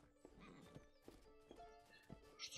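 A horse in the video game Rustler makes steady clip-clop hoofbeats, fairly faint, with a neigh rising at the end.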